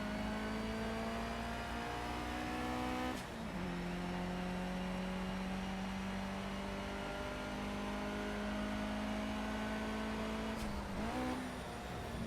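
A race car engine in the Project Cars racing game holds a steady loud drone through the gears, with two sharp shifts where the pitch drops and climbs again, continuous throughout.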